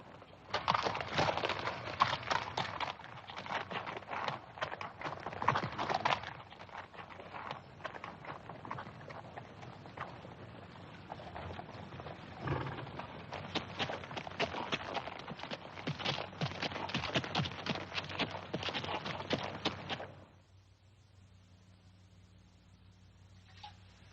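Horses' hooves clip-clopping on a western town street, a steady, moderately loud walking rhythm that runs for about twenty seconds before stopping, leaving a quiet background.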